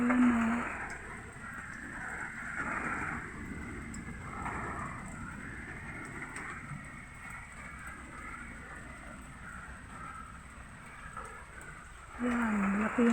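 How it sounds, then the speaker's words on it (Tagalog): Heavy afternoon rain pours down in a steady, broadband hiss that continues without a break, with a voice briefly heard at the start and again at the end. "Yan, ang ulan. Lakas ulan. Yan, umulan na."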